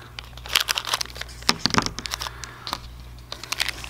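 Plastic packaging crinkles and tears as a parcel of electronic sensor modules is cut open, with a rapid run of close crackles and rips that comes in short bursts over a steady low hum.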